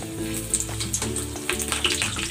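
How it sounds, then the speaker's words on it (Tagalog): A tilapia fries in hot oil in a pan with loud crackling and popping bursts over a steady sizzle. Sharp spatters come irregularly and close up, with no talking. "Iprito na natin."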